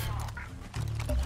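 A dog in the Far Cry 6 video game barks a few short, fairly quiet times amid other game sounds.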